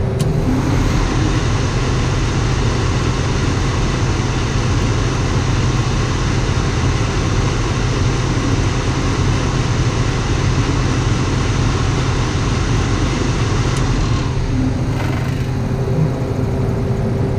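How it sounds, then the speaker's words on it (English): Both electric motors of a Caterpillar 793B haul truck's air-conditioning unit run together in a loud, steady, close drone with a constant hum, then ease off slightly near the end. "Both motors are plugged in right now."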